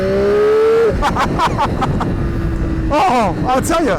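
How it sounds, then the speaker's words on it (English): A Triumph Daytona Moto2 765 triple-cylinder motorcycle engine, heard close with rising revs and gear changes as it pulls away, loud and buzzy, while a rider talks briefly over it. "So this is a triple cylinder engine."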